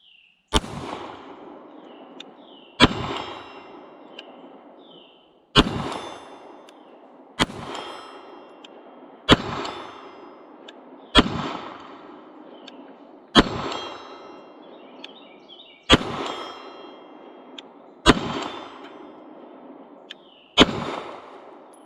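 An IWI Masada 9mm pistol fires about ten shots at steel targets roughly 70 yards out. Each sharp crack comes every two seconds or so and is followed by a ringing metallic clang and a short decay.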